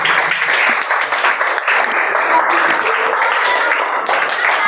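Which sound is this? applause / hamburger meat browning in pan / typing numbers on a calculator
applause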